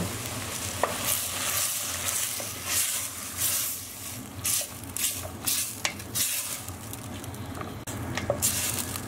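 Chopped tomatoes from a 400 gram can frying with light-browned onions in a pan, giving a steady close sizzle with soft stirring scrapes and small bursts of spatter throughout.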